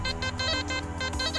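An XP Deus metal detector ringing over a buried target in a park gives a continuous warbling electronic tone that pulses in quick bursts for a moment, close and clear with no talk.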